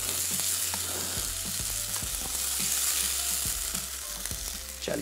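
Vegetables sizzle and fry in a hot pan while being stirred, a steady loud hiss with irregular scraping stir strokes throughout, no voices.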